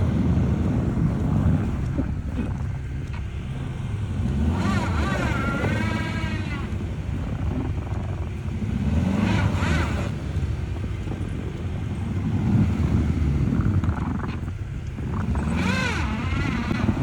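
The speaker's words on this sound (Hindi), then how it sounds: "वो ट्रैक्टर भी आ रहा है।" Large tractor approaching on a snowy road during a snowstorm in Norway, its low engine rumble swelling and fading amid heavy wind buffeting, with scattered voices underneath.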